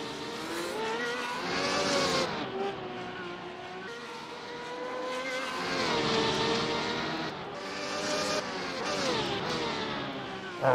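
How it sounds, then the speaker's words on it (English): A turbocharged car engine in a racing video game revs and accelerates, loud and steady, with rising and falling pitch as the car shifts through gears and corners. "The turbo sound is nice on the Rapid."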